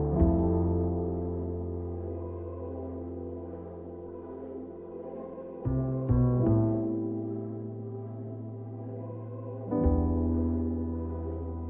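A stretched, time-scaled stereo reverb effect holding the same pitch plays as sustained, smeared harmonic tones, with two brief breaks where the texture shifts before the wash resumes; no speech.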